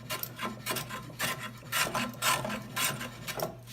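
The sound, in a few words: hand planing wood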